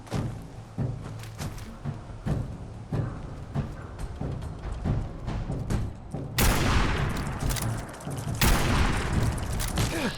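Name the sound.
gunfire in the video game (Fallout 4)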